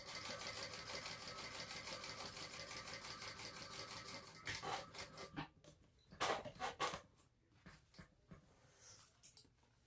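A sewing machine top-stitching the edges of a fabric bag hums steadily for about four seconds, then gives way to scattered clicks and short handling taps.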